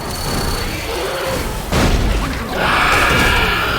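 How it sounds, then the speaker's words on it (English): Loud video game pipe bomb blast in a rainy match, a heavy boom and crash over constant rain noise and game sounds, close and dominant. "Throwing a pipe bomb."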